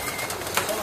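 Pigeon cooing at a pigeon derby, a brief soft coo close by under a steady noisy background.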